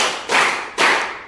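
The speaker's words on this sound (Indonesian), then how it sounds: "Tepuk tangan satu kali." A group claps hands together during an ice-breaking exercise, producing a few loud, roomy bursts of overlapping claps, each washing out before the next.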